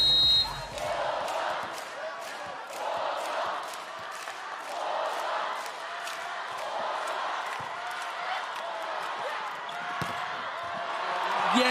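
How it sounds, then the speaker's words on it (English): A lively arena crowd roars and chants in waves at a women's world championship volleyball match between China and the Netherlands, with a commentator talking over the noise. "The crowd's absolutely firing up."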